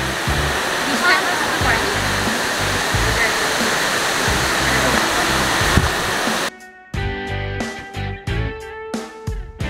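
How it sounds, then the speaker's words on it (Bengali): A waterfall near Shillong roars loudly and continuously as a broad, steady rush of water for several seconds, then cuts off abruptly. "এখান থেকে দেখাই যাচ্ছে ওয়াটারফলসের জল"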